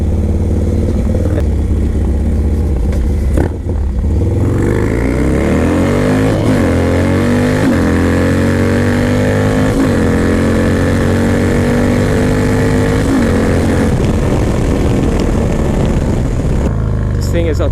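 Harley-Davidson Dyna Low Rider S motorcycle engine rumbling steadily while being ridden, loud and close throughout, with the revs rising and falling as it pulls along the road.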